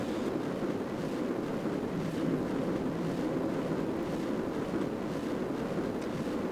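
Steady roaring rocket engine rumble during a launch in the Juno: New Origins game, a continuous broad loud drone holding level throughout, no voices over it.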